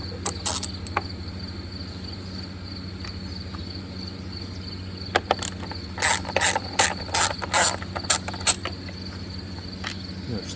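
A ratchet on a long deep socket extension works an 8mm bolt on a Kohler 7000 Series motor, with quiet pauses giving way to bursts of rapid, close clicking pawl strokes over a faint background hum.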